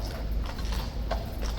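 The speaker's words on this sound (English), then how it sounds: "the new young horse with those fresh shoes on the left" Hooves of a young guard horse in fresh shoes clip-clopping on pavement as it approaches, a quick run of close, fairly loud strikes over steady background rumble.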